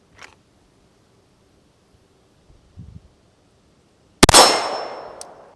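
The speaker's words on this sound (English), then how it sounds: "So now, let's fire it one-handed." A Canik TTI Combat pistol fired one-handed: a single loud, sharp shot near the end with a bright metallic ring, preceded by faint handling rustles in near silence.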